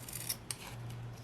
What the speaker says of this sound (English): And then trim it that 3/8 off